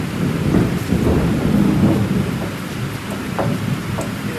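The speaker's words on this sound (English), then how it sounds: "We got a tin roof here and it's loud when it's raining." Heavy rain pounds a tin roof over a workshop in a steady, dense roar, with low rolling thunder rumbling underneath throughout. Loud and close, with no voices.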